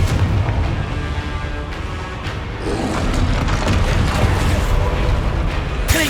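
A Confringo blasting spell explodes in the Hogwarts Legacy video game with a heavy booming blast that rolls into a sustained, loud rumble of debris and combat noise.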